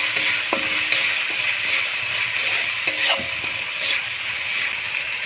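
Prawn malai curry masala with salt and turmeric being sautéed, a continuous close frying sizzle with occasional spoon knocks against the pan and no voices.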